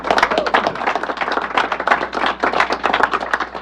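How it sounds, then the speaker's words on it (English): Close, loud applause from an audience at an event where the New York Islanders co-owners are introduced, dense continuous clapping with sharp individual claps throughout, no talking. "Let's give them a round of applause."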